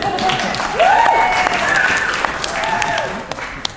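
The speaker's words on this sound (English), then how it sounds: "So please give a warm welcome to applause for your bartenders" Wedding guests clap for the bartenders at a reception, a steady wash of applause that swells and lingers while a voice speaks faintly over it.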